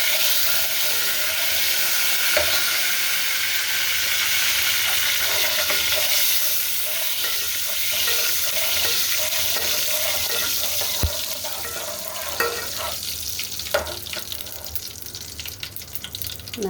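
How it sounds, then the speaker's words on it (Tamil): Cumin and fennel seeds sizzle in hot oil in a pan while a fish-based rasam is being prepared, giving a steady, close crackling hiss that runs throughout with a few sharper pops. "நல்லா எண்ணெய் காஞ்சானே பார்த்து சீரகமும் சோம்பும் போட்டாச்சா?"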